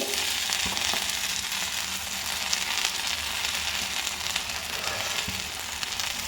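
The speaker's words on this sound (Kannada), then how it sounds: "ನಾನಿಲ್ಲಿ ಒಂದೇ ಸಲ ಐದು ಮೀನು ಇಡ್ತಾ ಇದ್ದೀನಿ" Five fish sizzling steadily in hot oil on a tawa for Mangalore-style fish fry, a loud continuous crackle with no pauses.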